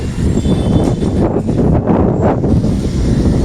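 Strong storm wind roars steadily and loudly in Chennai, buffeting the microphone with a continuous rumbling rush and faint gusting surges, and no voices are heard.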